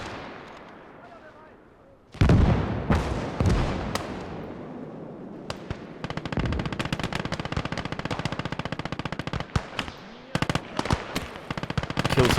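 Battle in the WWII game Gates of Hell with artillery, sharp booming blasts followed by sustained rapid machine-gun bursts and scattered rifle cracks, loud and close, with a voice talking underneath.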